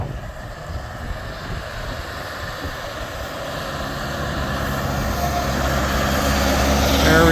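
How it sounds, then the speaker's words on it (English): A John Deere 5100E tractor plowing snow in Wisconsin gives a steady, low engine drone that swells and grows louder as it approaches. Wind buffets the microphone. "That John Deere's getting a big bite of snow here."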